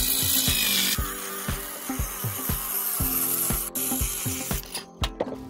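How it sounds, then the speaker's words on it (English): A power saw cuts a sheet of plywood in half at an outdoor desert camp, giving a loud, steady whine with repeated rhythmic strokes and rasps before the blade spins down near the end. "let's cut this piece of plywood in half."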